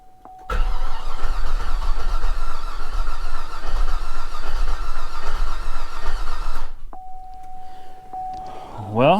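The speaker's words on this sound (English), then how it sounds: "Well, she cranks good. That's a strong, healthy crank." A flood-damaged Cadillac SRX engine cranks steadily and strongly for about six seconds, close and loud, followed by a steady warning chime and a voice at the end.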